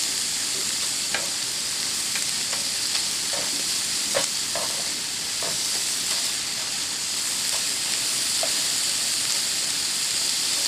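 Turkey pieces fry without oil in a Ridgemonkey pan, giving a steady, close sizzle and hiss with scattered small pops and crackles throughout.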